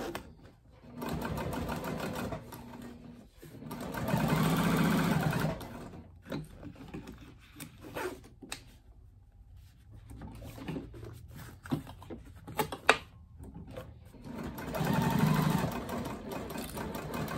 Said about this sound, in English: Let's go to the machine and stitch this.